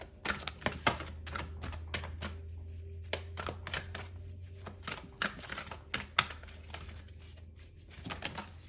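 Tarot cards are shuffled and riffled repeatedly, a rapid crisp flutter of taps and snaps close by, with a low steady hum in the background.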